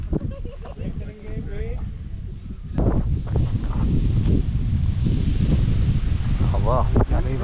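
Wind blows outdoors during a pre-wedding photo shoot, buffeting the microphone with a loud, steady, low rumble that grows stronger partway through, while people talk over it.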